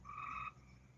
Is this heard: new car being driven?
no